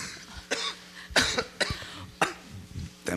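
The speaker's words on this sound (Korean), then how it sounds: "감기가 기침이 나와가지고" Several harsh coughs in a row, close and loud, with short pauses between each burst.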